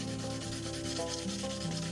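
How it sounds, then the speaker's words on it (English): Steady sanding rubs back and forth without pause as the body shell of an RC Jeep Cherokee scale truck is sanded down, close to the microphone. "now that I've been sanding"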